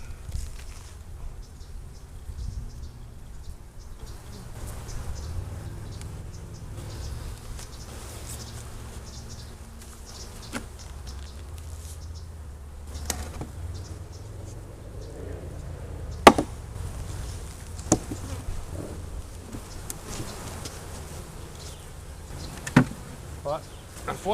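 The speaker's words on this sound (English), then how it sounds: "Yeah, a lot of bees in here." Steady, dense buzzing of many bees inside an opened beehive during a summer hive inspection, continuous and close with occasional sharp knocks and clicks of the hive being handled.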